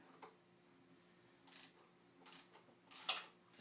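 A hand ratchet working a bolt loose on a 2013 KTM 250SX motocross bike, a few quiet clicking bursts spaced about a second apart, close by in a calm room with a faint background hum.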